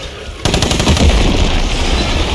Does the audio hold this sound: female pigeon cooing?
no